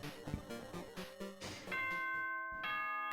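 A doorbell-style chime sounds in Danganronpa 2: Goodbye Despair, with bright sustained tones entering midway over rhythmic game music, then briefly cutting out and sounding again near the end.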